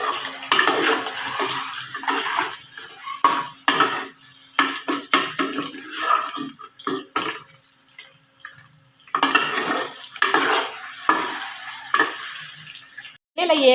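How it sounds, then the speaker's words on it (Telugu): Eggs fry in oil in a home kitchen with an irregular, bubbling sizzle that comes and goes in bursts, close and fairly loud, broken by a few short gaps. "ఇలా ఏగుతుంటే పెద్దగా అవుతుంటాయి అనమాట, నూనెలో బాగా ఏగిపోయి."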